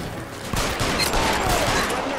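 Dense gunfire in a shootout in the detective video game L.A. Noire, a rapid fusillade of close, loud shots overlapping into continuous crackling bursts, with no talk.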